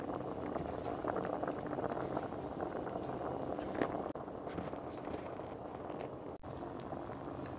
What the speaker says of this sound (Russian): Все овощи, что у меня находятся в казане, все, что я сложила, я уже так вот жарю, тушу уже 20 минут.